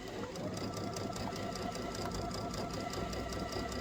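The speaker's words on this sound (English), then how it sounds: "we're just going to sew all the way around, leaving that gap" A sewing machine runs steadily while stitching around a zipper pouch, a fast, even mechanical whirring and needle knock up close that continues without a break.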